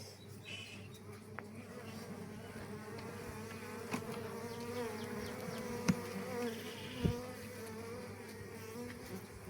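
Bees buzz steadily around a honey harvest, a continuous droning swarm close by with a few sharp knocks and thumps rising above the hum.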